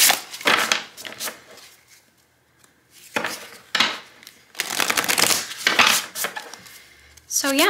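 Cards are riffle-shuffled in several quick rattling bursts separated by pauses, close and crisp, ending with a soft cascading bridge.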